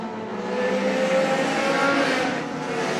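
Race cars roar steadily around the oval at Claremont Motorsports Park late in a close battle for the lead, a dense, sustained engine drone with shifting pitch and no pause over three seconds.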